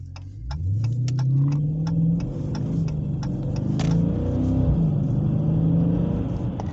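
A 392 muscle car engine revving under throttle, a deep rumbling exhaust note that climbs and falls in pitch with repeated throttle blips, loud and close from inside the car, with occasional clicks over the drone.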